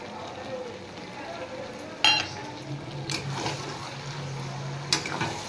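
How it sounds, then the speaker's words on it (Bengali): Chopped tomatoes added to mutton being browned in a pan: a continuous close sizzle and frying hiss, with a few sharp clatters of a spoon or spatula against the metal. "এবার আমি দিয়ে দেব কেটে রাখা টমেটো"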